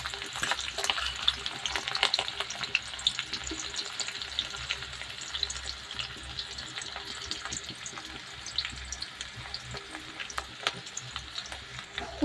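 Sliced onions fry in a pan after dry red chillies and whole spices, giving a steady close sizzle with frequent light scrapes and taps of a stirring utensil throughout.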